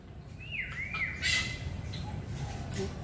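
A palm cockatoo in an aviary gives a sliding whistled call followed by a few shorter chirps and squawks, moderately near, over a constant low background hum.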